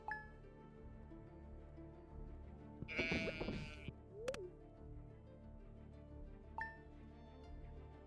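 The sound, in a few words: sheep bleating in a video game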